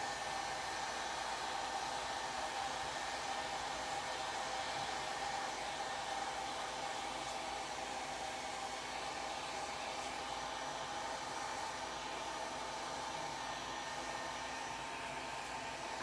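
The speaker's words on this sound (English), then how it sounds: "So let's give that a quick dry. Especially this part I touched up." A hair dryer blows steadily and loud at close range for the whole stretch, drying a freshly touched-up part, with no talking.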